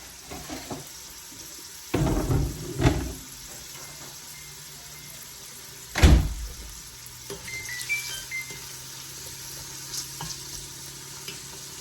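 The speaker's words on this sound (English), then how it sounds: "we're going to saute this until it's slightly translucent. Just throw your garlic in there too" Onions and garlic sautéing in a pan give a steady close sizzle and hiss, broken by a few louder stirring knocks and scrapes, with no talking.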